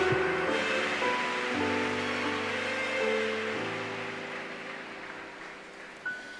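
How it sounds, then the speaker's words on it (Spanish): A church congregation applauds in a broad, hissing wash of clapping, with sustained keyboard chords beneath it, and the applause gradually fades toward the end. "Dale un aplauso a Jesús si estás aquí."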